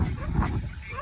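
Village dogs bark and yelp near a dam, a short burst of several excited barks and whimpers close by, with some voices mixed in.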